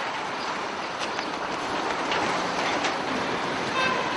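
A train rumbles at the railway station in Kolozsvár, a loud, steady broadband roar with faint clicks and a brief high tone near the end, with no speech.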